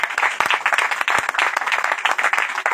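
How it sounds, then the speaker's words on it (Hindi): A congregation at a church service claps for God: a dense, close burst of many hands applauding steadily for a few seconds, with no talk. "आइए ताली बजाते हैं परमेश्वर के लिए"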